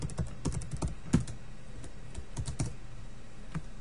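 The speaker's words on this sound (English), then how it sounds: "I'll just type that in." Quiet keystrokes on a computer keyboard, tapped in short irregular bursts with small pauses between them, close and alone.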